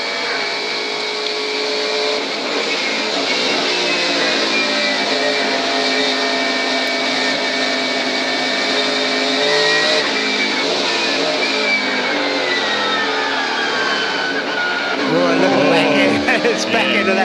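A race car's onboard engine at Phillip Island during a 2000 Shell Championship Series race: a loud, continuous high-revving engine note that rises and falls through gear changes, with brief squeals near the end.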